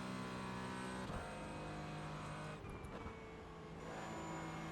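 A Porsche Cayman GT4 engine in the iRacing sim: a steady, droning exhaust note that rises in pitch, with brief dips in the note as the car shifts gears. No talking over it.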